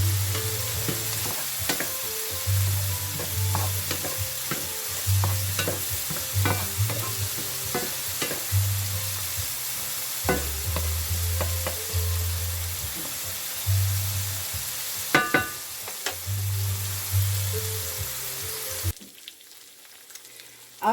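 Burgers and fries sizzle in a pan in a small cabin kitchen. A steady frying hiss runs throughout, with stirring and utensil clinks, before the sound drops away near the end.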